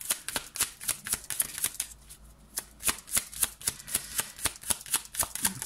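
A deck of tarot cards is shuffled close by, giving a quiet run of quick crisp riffling flicks and snaps, pausing briefly midway.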